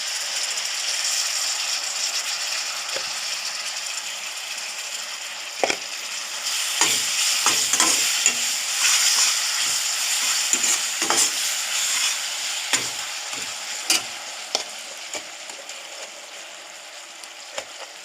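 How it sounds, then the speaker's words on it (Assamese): Jaggery fries in a pan for an Assamese-style jujube pickle, a steady soft sizzle with repeated scraping and clacking strokes of a spoon stirring, close and fairly loud. "এয়া গুড়খিনি দি এনেকৈ ভাজি আছোঁ।"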